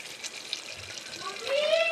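Water poured a little at a time into a pan of spiced soybean vadi curry, a steady rushing, splashing wash that swells louder near the end, with a voice speaking in the background.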